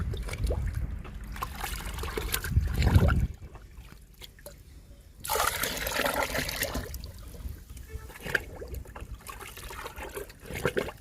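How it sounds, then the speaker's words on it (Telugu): Papaya liquid fertilizer splashes and gurgles as it is poured into a bucket, a loud wet pour for about three seconds followed by quieter trickling and a second steady stream. "ఈ బకెట్లో రెండు పోసానండి బొప్పాయి లిక్విడ్ ఈ బకెట్లో కూడా రెండు పోద్దాము"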